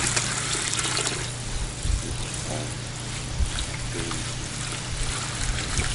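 Brownish, cloudy water gushes steadily into a container, a continuous broad splashing rush with a low hum underneath and a few brief bumps.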